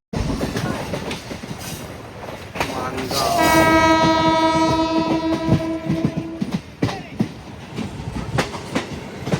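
A passenger train on the Chiplun to Mumbai route rumbles and clatters along the tracks, with a loud, steady horn blast sounding for a few seconds midway.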